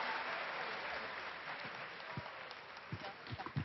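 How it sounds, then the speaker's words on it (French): A crowd applauds at a cosplay championship contest, a broad, steady wash of distant clapping with a few louder nearby claps emerging toward the end. "On peut l'applaudir encore une fois"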